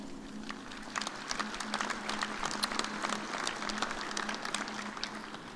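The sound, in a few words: applause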